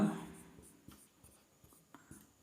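Chalk or pen scratching out a maths equation by hand in a class-10 arithmetic progression lesson, soft irregular taps and strokes, faint and close, with no talk.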